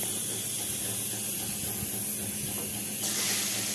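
Ground onion, tomato and ginger-garlic paste hit hot oil in a pan, giving a steady, close sizzling hiss that brightens slightly near the end, with no voices.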